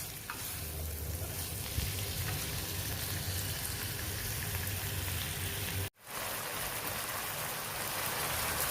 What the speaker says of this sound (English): Now add boneless chicken and cook it on medium to high flame for 5 to 7 minutes.